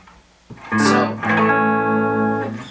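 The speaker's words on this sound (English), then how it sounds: "So right now what you're hearing is just the amp and the guitar." An electric guitar strums a chord through a Marshall Origin 50 amp with no effects, ringing out with sustain after a brief pick attack, played alone.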